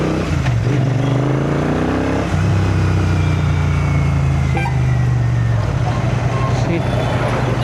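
A Royal Enfield GT650 motorcycle fitted with KTC Racing brake and clutch parts rides past loud and close, its engine note rising and then dropping as it slows under braking, with a rider's voice over it.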